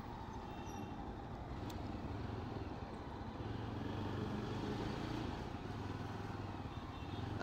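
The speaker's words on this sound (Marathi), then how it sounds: "अरे यार हे ट्रॅफिक संपतंय की नाही यार" Road traffic heard from a motorcycle on a ride to Trimbakeshwar, a constant low engine rumble and wind roar that stays fairly steady and fills the whole stretch, with no talking.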